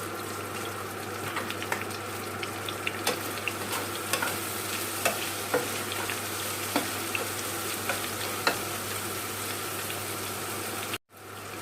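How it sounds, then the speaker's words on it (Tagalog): Spelt pasta being stirred in a frying pan with bolognese sauce gives a steady close sizzle and bubble, broken by repeated light scraping and clicking strokes from the utensil. "Lalagay na po natin ang ating pastita."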